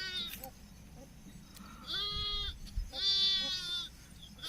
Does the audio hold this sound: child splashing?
no